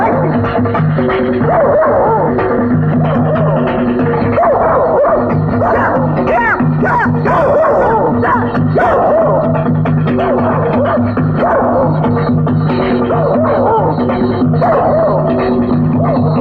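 Several dogs bark and yip in a continuous excited chorus over a steady musical drone, loud and busy throughout the whole stretch.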